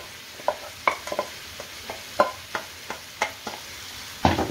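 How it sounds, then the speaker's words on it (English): Prawn jalfrezi curry with base gravy sizzles steadily in a hot pan while a spoon scrapes and taps in irregular strokes, close up with no talking. "Stir and sizzle for around 3 minutes"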